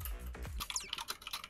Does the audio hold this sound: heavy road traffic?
no